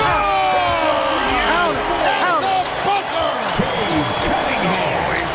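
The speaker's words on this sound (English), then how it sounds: "Incredible buzzer beater there, guys. This crowd is going wild." Arena crowd roars and cheers at an NBA All-Star Game after a buzzer-beating shot, a loud sustained wall of noise with whistles and shouts, broken by squeaks and bounces from the court.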